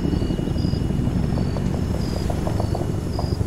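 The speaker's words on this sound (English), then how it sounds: "That's not a friendly helicopter. That's an AAF helicopter." An AAF military helicopter in the video game Arma 3 whirs with a steady, dense rotor chop, close and loud, with faint high beeping tones repeating over it.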